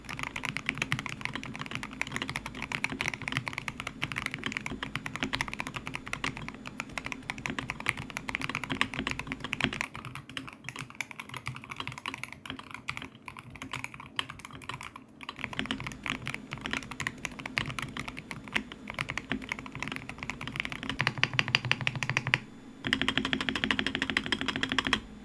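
Steady clacky typing on a Wooting 80HE mechanical keyboard, fast continuous keystrokes close up, with a brief pause near the end before typing resumes.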